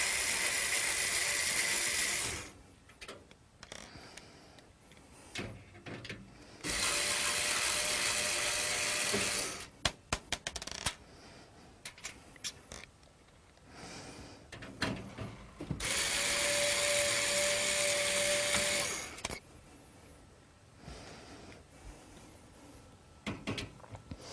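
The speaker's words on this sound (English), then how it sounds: "It's secured by 4 screws on the back. I'm going to simply remove them and take the power supply out of the system." A power screwdriver removes the power supply screws from the back of a computer case in several long whirring bursts. Between them come clicks and metallic handling noises, close up, with no speech.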